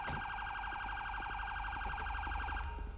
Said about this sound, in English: They always have their siren on it